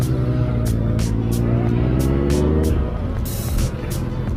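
A motorcycle engine accelerates through rising revs as the rider pulls away on a road near Ayutthaya, loud and close with steady wind rush and brief clicks, no talking.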